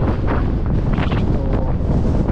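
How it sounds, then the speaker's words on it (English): Strong wind on Blackpool seafront buffets the microphone in a constant, loud, roaring rumble that never lets up and has no talk over it. "It's really, really windy."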